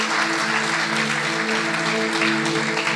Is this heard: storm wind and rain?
no